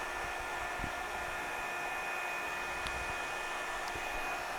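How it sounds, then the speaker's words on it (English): A Revlon One Step hair dryer and styler blows steadily while drying hair, a constant loud whooshing hum with faint brushing and handling noises, no talking. "I'm going to take the very underneath back part and blow dry it as well as I can"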